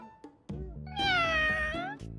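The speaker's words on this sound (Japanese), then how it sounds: "ね、猫です。" A one-month-old black shorthaired male kitten with blue eyes gives a single clear, rising-falling meow near the middle, framed by soft background sounds and brief thumps.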